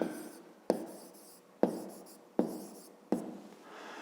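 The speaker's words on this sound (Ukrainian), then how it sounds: "Записуємо." A pen scratches across paper in several short strokes, each starting with a distinct tap, close and quiet in an otherwise silent room.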